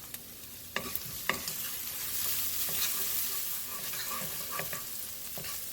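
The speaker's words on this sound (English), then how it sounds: "I'm going to saute that quickly because this is on a high heat" Aromatics sautéing in a pan over high heat while being stirred for egg fried rice: a continuous close sizzle broken by several sharp scrapes and clicks of a spatula, with no talking.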